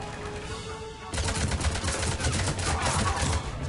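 An engineer's deployed turret in Mass Effect 3 fires a sustained rapid burst of rattling shots that starts abruptly after a quieter opening and runs continuously to the end, loud and close.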